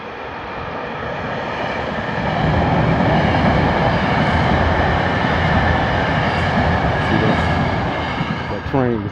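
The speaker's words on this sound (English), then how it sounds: "Train was coming on the other side. That SEPTA train there." A SEPTA commuter train passes in Chester, Pennsylvania, a loud, steady rumble and rail roar that swells after a couple of seconds and holds, ending with a brief high squeal.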